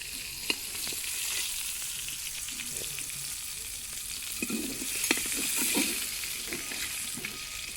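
Young jackfruit frying with shrimp in oil outdoors in a mango orchard: a continuous sizzle with occasional stirring knocks and scrapes, close and fairly steady, with no voices.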